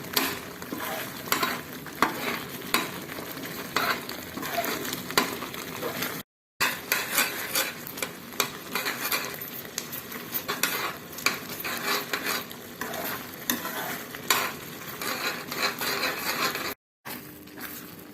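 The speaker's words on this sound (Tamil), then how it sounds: "மீடியம் ஃப்ளேமில் வச்சு நல்லா உருண்டு வர்றது வரைக்கும் லேசாக அப்பப்போ கலரி கொடுக்கணும்." White beans roast in a pan over a medium flame while a utensil stirs them, giving a steady scraping and rustling with a soft sizzle close by, interrupted by two short breaks.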